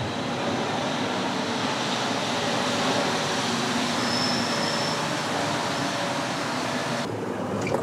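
A Marseille metro train runs with a loud, steady rushing roar and a high whine throughout, close by, with no voices.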